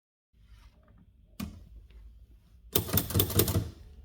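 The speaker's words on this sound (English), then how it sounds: "If you press the figure button, the carriage goes back, you see?" A 1908 Herald 7 French typewriter, heard up close: a single sharp mechanical clack, then a quick burst of clattering key strikes and carriage noise.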